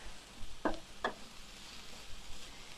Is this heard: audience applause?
no